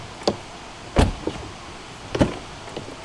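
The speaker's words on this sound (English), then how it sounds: "Even the way the door sounds when you shut it." A Porsche Taycan Cross Turismo door shuts with a solid, close thud, with a couple of lighter clunks and taps from the car before and after it.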